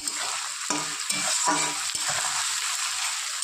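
Sliced onions fry with a pinch of sugar and salt in a pan for a chicken curry, a steady close sizzle broken by several scraping stirs of a spatula, with no voices.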